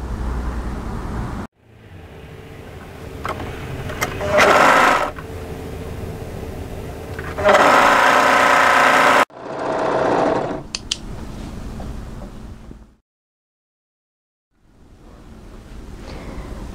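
A sewing machine runs along the shoulder seams of a turtleneck tunic in several bursts of steady, close whirring, some louder and rougher, separated by abrupt pauses and one stretch of near silence.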